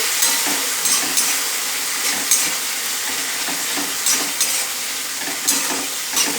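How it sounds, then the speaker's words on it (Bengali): Sauces for chilli egg sizzle steadily in a hot pan while being stirred, a continuous bright frying hiss with occasional soft scrapes and clinks, close and without talk. "ভালো করে কষিয়ে নেবে সসগুলো।"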